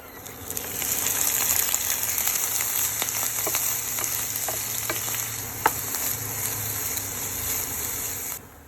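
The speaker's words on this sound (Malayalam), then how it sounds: "അതിലേക്ക് അരിഞ്ഞു വെച്ച പിണ്ടി ചേർത്ത് ഇളക്കുക" Chopped banana stem stir-fried in a pan with shallots and curry leaves, giving a steady close hiss of frying with scattered ticks and scraping stirs throughout.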